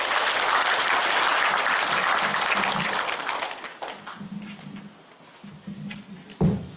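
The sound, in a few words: applause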